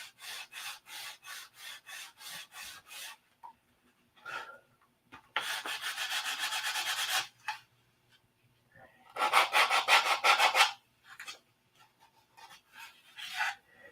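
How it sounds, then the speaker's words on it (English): Bursts of rhythmic rasping strokes sanding a balsa wood model airplane wing, some quick and evenly spaced, others longer sustained runs, separated by quiet pauses; close and clear. "And I keep sanding on this and it just doesn't want to get out of there."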